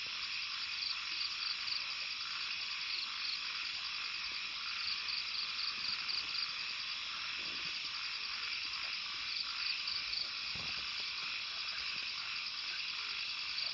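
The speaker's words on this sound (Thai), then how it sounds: "เสียงเขียด" Frogs croaking at night in a field beside a farm campsite, a dense, steady chorus of rapid high-pitched trilling calls mixed with insect-like chirring, continuous and fairly distant with no voices.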